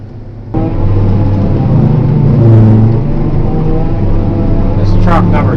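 A 2001 Kenworth T800 silage truck engine rumbles loudly nearby, its low diesel drone rising after a sudden start and holding steady, with a brief higher noise near the end.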